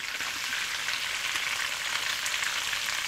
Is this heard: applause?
no